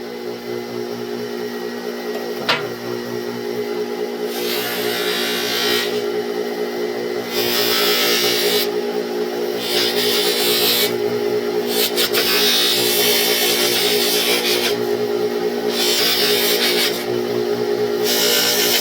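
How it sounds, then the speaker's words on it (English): A jewelry setting for an opal is buffed with aggressive compound on a spinning wheel: a steady motor hum runs throughout, with loud hissing surges each time the piece is pressed to the wheel. "This is just taking out scratches. A little bit more aggressive buffing compound than I'll use to finish it."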